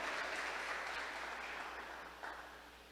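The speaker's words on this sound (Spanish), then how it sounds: "Dele palmas a Él esta noche." A church congregation clapping during a worship service, a dense, steady wash of applause that gradually fades over a few seconds, with no voices.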